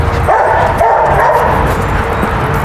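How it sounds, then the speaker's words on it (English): A lively little dog yipping in excitement on an outdoor walk during training: close, fairly loud, rapid high-pitched yaps and whimpery sounds running through the whole moment, with no talking. "This is a pretty lively little dog."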